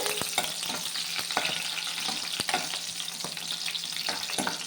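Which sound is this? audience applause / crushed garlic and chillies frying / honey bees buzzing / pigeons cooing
crushed garlic and chillies frying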